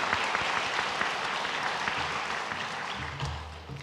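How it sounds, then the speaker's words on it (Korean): Church congregation claps together to welcome newcomers during a Sunday worship service, steady dense applause from the room that thins slightly toward the end. "자리에서 일어나시면 우리 박수로 환영하겠습니다"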